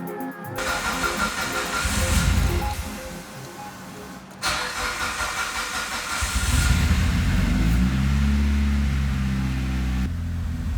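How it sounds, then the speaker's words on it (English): A Mitsubishi Evo 9 engine, fitted with new coils and a Haltech ECU, cranks and catches, then settles into a steady running idle hum that continues to the end. "The engine starts okay"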